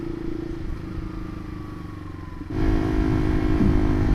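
A Honda CBR150R with a Ronin racing exhaust rumbles steadily, growing louder and rougher halfway through as the throttle opens, with a deep, raspy exhaust tone.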